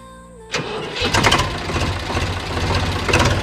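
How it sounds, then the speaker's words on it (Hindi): An Eicher 485 tractor engine cranks and catches after a brief quiet hum, then settles into a loud, steady diesel-like running rumble with a slight rhythmic knock. "प्रधान जी जरा अपना ट्रैक्टर की आवाज़ हमको सुनवा दें"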